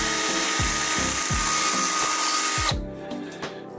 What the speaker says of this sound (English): the sander just really does a good job with it